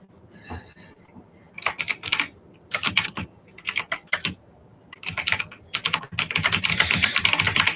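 Clicky mechanical computer keyboard typed in quick rhythmic bursts separated by short pauses, the clacks close and crisp, building into continuous rapid typing at the end with no voices.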